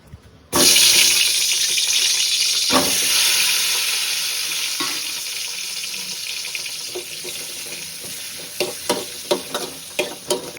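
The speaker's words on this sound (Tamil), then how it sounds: "இப்போ ஃபைனலா தக்காளி வதக்கிக்கலாம்." Steady hiss of tomatoes frying in a pan for tomato chutney, with occasional scraping and stirring clicks growing more frequent toward the end.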